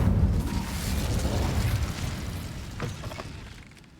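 The Incendio fire spell in Hogwarts Legacy goes off as a broad, rumbling blast that swells immediately, then slowly fades over a few seconds with faint crackle and no voices.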